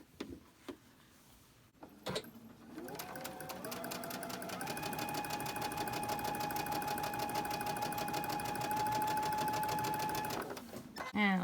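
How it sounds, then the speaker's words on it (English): A sewing machine stitches quilt fabric pieces, starting with a few handling clicks before the motor spins up into a fast, steady, close mechanical whir with rapid needle ticking for about eight seconds, then stops. "Now let's go ahead and sew this. So I'm just sewing it here."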